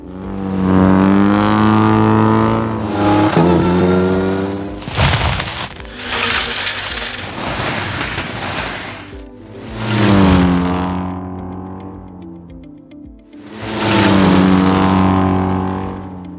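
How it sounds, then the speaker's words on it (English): Rally cars with Doppler processing roar past one after another, several loud engine passes with rising and falling pitch, gear-shift revs and harsh bursts between them, close and unaccompanied by speech. "And another rally car."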